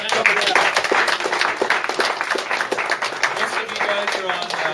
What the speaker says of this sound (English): So big applause to you guys, and thanks for coming out, guys.